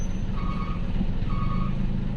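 A heavily loaded truck reverses on a forest road at night, its backup alarm giving two steady, evenly spaced beeps over a loud, continuous engine rumble.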